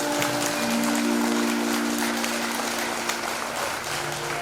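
An audience at a Shrimad Bhagavat Katha religious discourse in Rohtas, Bihar claps steadily for several seconds, a dense wash of hand claps over a faint sustained musical drone.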